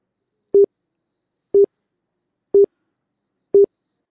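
A telephone exchange route-in-progress tone: four short, identical beeps, each about a tenth of a second long, spaced one second apart with silence between them, clean and steady.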